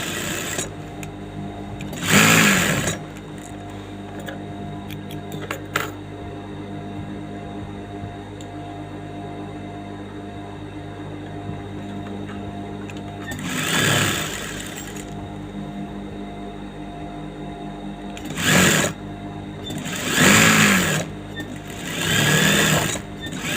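An electric sewing machine stitching the lining of a saree blouse, running in several short bursts of whirring motor and rapid needle chatter separated by quiet pauses, close and fairly loud.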